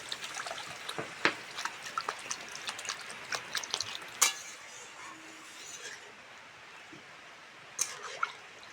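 Water poured into a pan of Bengali papad curry (papad dalna) hisses and sizzles against the hot spices, with scattered clinks of a utensil on the pan. The pour stays close and moderately loud throughout, with no one speaking.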